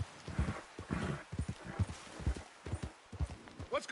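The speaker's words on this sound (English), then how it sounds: "no me puedo subir al caballo" Horse in Red Dead Redemption 2, close hoof clip-clops in an uneven trotting rhythm with a brief snort or whinny, heard without talk.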